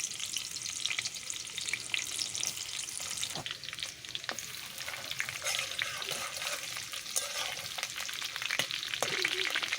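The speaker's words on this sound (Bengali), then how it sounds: "তেলের সাথে পেঁয়াজ দিয়ে দিলাম আর দিয়ে দিলাম একটা গোটা রসুন" Onion and a whole garlic bulb fry in oil in a wok with a steady crackling sizzle, broken by scattered stirring scrapes and taps, close and continuous without speech.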